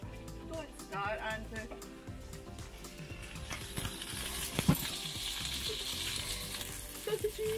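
Sausages fry in a pan inside a motorhome, giving a steady close sizzle and spatter with stirring scrapes while people talk over it.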